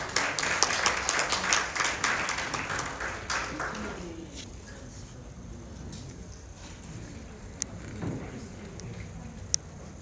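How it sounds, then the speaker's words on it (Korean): Indoor audience applause greets a presenter walking onto the stage at a Korean cloud technology briefing, loud dense clapping in the first seconds that fades to a few scattered claps and room noise. "여러분 큰 박수로 맞이해 주시기 바랍니다"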